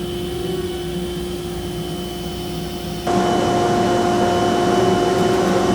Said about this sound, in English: I apologize for the noise because I have my dust collector running as well